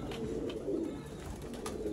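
A red-eyed pigeon from the Sialkot border area, held in hand, gives low, soft cooing murmurs close by, faint and continuous over the short stretch.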